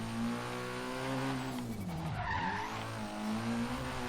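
A Nissan 240SX S13 drifts in Forza Horizon 3, its engine droning steadily while the rear tires squeal and skid through a sustained slide, loud and close with no talking.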